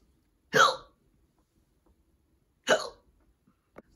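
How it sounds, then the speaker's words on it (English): Two sharp, loud hiccups about two seconds apart, each a sudden gulping catch close to the mic after a Pepsi was drunk too fast, followed by a faint third click in an otherwise quiet room. "we're gonna go have to get rid of those hiccups"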